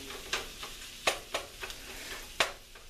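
Italian sausage frying in a pan on a stovetop, a low steady sizzle broken by sharp pops and spatters at irregular intervals, close and fairly quiet, with no talking.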